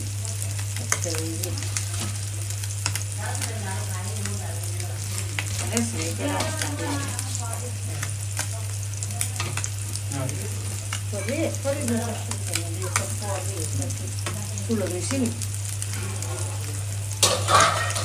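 Small fish sizzling steadily as they fry in a pan, close and continuous, with a constant low hum underneath and someone talking over the cooking at times.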